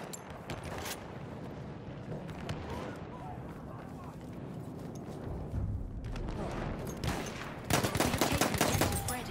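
Machine gun fire in a war video game, sharp bursts of rapid shots that open the clip and return louder near the end, over a dense rumbling background.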